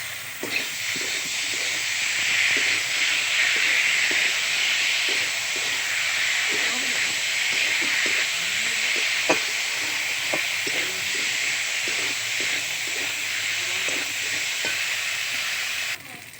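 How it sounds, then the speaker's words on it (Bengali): Leftover chicken fries in a pan with its curry gravy left out, giving a steady, loud sizzling hiss throughout, with occasional clicks of stirring and a voice talking faintly underneath. "দেখো বন্ধুরা, কত সুন্দর ভাজা হচ্ছে। চিকেন ভাজা, বাসি চিকেন ভাজা।"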